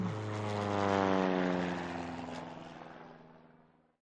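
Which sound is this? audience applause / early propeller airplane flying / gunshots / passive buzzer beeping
early propeller airplane flying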